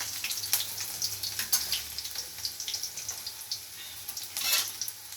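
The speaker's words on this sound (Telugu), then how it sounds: "నూనె బాగా చిందిస్తుందండి, దూరం ఉంచండి" Chopped chillies and garlic fry in hot oil for a Maggi noodle dish, with uneven spitting pops and sharp splatters in close hiss, louder in bursts, and no voices.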